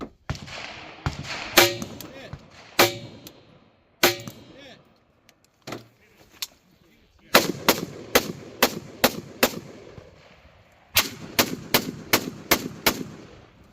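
Rifle fire from a Fabryka Broni Beryl 556 at targets, loud sharp shots, first spaced singly, then in quick rhythmic strings of five or six, with a voice talking between volleys.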